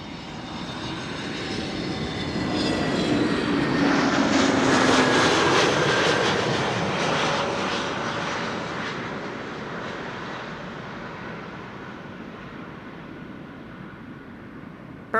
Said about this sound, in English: Egypt Air Flight 757 arriving from Cairo, next to land